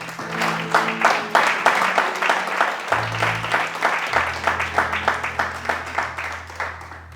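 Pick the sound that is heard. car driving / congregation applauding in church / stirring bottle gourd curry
congregation applauding in church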